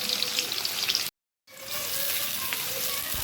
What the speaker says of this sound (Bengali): প্রথমে আমরা কড়াইতে তেল দিয়ে পেঁয়াজের বেরেস্তা ভেজে নেব।